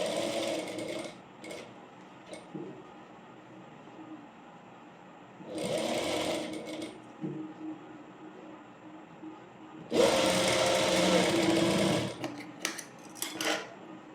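A sewing machine stitches the seams of an A-line frock. It runs in three bursts of fast whirring, the last the longest and loudest, with pauses and small clicks between them and no voices.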